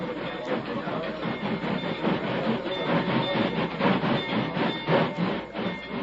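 Train crossing a bridge as a radio drama sound effect, a loud continuous rumbling clatter of wheels with rhythmic clicking, building slightly in the middle, with no voices.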